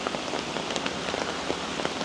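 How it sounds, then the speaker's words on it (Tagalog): Heavy typhoon rain pours steadily onto surfaces around a rented house on a hill, a dense, continuous hiss with scattered louder drops and splashes, close and loud, no voices. "Hindi pa rin naghuhupa yung ulan. Talagang maulan pa din."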